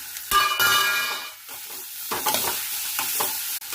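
Potatoes dropped into hot oil with browned onions, salt and turmeric, giving a loud burst of sizzling followed by repeated spatula scrapes and stirring against the pan, close up.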